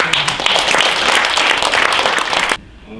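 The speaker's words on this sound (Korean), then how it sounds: "큰 박수로 맞이해 주시기 바랍니다" Audience applause welcoming a lecturer at a Korean astronomy talk held for a Teachers' Day commemoration, a loud, dense crowd clapping that continues steadily and then cuts off abruptly near the end.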